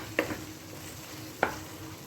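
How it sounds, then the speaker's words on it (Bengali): Cornflour mixture being stirred into frying food in a pan, with a constant soft sizzle and two short scraping stir strokes close by. "কর্নফ্লাওয়ার দেওয়ার সঙ্গে সঙ্গেই কিন্তু নাড়তে হবে"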